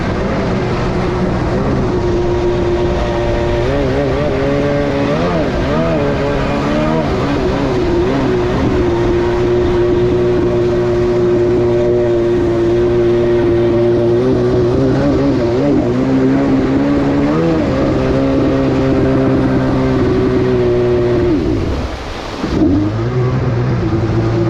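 A motorcycle engine with a sticking throttle runs loud and close, holding a high, droning rev for over twenty seconds with slight wavering pitch, then dips sharply and recovers near the end.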